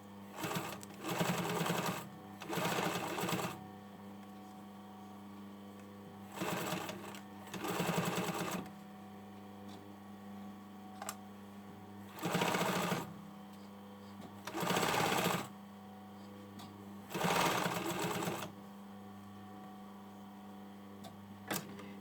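A sewing machine stitches a hoodie hem over overlocking in short bursts, each a few seconds of rapid whirring separated by quiet pauses under a faint steady hum.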